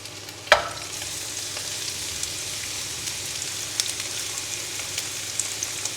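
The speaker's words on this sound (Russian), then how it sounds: "И отправляем в сковородку лук." Onion drops into hot sunflower oil in a frying pan with a sudden sharp sizzle burst. It settles into a steady crackling fry, dotted with small pops, close and moderately loud.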